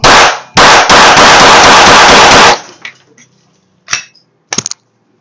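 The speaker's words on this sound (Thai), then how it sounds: "ทดสอบปืนเหมือนกันนะครับ ปลอกเงินห้านัดแล้วก็ปลอกทองห้านัด" A SIG Sauer P320 Sport blank pistol fires a loud, rapid volley of shots indoors in a shop. The bursts run together for about two seconds and then give way to a few faint metallic clinks.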